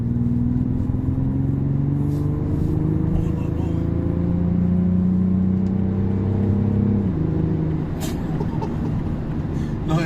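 A 2022 BMW X4 M40d with a Stage 1 tune at about 400 hp accelerates hard, its diesel engine note climbing steadily through a gear before a shift, heard from inside the cabin with voices talking.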